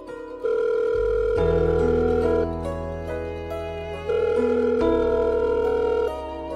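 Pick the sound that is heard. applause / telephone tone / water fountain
telephone tone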